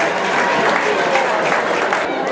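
Audience applause at a raffle draw in a Toronto cathedral hall fills the space with a dense, continuous wash of clapping from a crowd, with voices mixed underneath.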